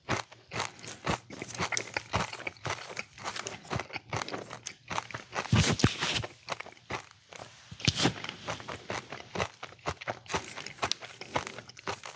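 Crunchy Halloween candy is chewed right at the mouth, rapid loud crunches and crackles repeating in an uneven rhythm, close up with no talk.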